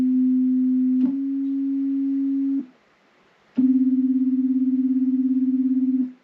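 Two tones a minor second apart, sounded on a keyboard in Pythagorean tuning: a steady pure electronic-sounding note held, then after a short pause a second sustained tone with a faint rapid beating.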